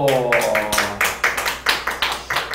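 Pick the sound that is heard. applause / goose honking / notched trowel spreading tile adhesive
applause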